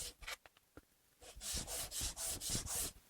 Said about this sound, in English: We'll just use our MDF and our sandpaper just to give them a quick sanding.